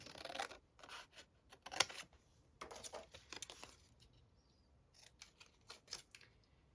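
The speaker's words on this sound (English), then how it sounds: "let's cut this tag right here. We'll cut the blue one." Scissors snip through a paper tag on an envelope journal pouch, making a few quiet, close crisp cuts with soft rustling in between.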